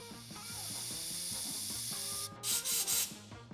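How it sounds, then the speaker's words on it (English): Gumout carb, choke and parts cleaner sprays from an aerosol can onto old truck parts. Three short, close, loud hissing bursts come after a steadier background hum. "A little gum out carb choke and parts cleaner."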